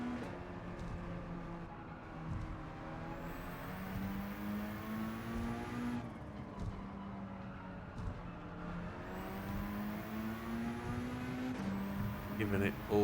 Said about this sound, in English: giving it all the revs, revving it all the way